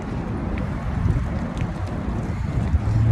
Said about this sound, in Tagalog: Mahangin dito, di ba?